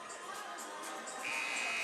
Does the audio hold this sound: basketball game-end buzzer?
yes